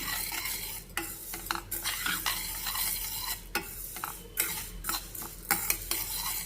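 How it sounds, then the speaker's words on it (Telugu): Toor dal sizzles in ghee in a pan while a spoon stirs it steadily, a continuous close frying hiss broken by scraping strokes and occasional metal taps. "సో ఇదైతే నేను వేయించుకుంటున్నాను ఇంకొంచెం వేగిన తర్వాత మనం ఎండుమిర్చి వేసుకోవాలి"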